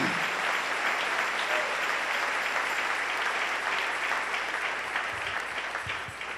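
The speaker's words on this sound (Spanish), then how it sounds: "Dale un aplauso al Rey en esta hermosa y preciosa mañana." A church congregation applauds during a morning service, a steady dense wash of clapping that fills the whole stretch at close range and tapers slightly at the end.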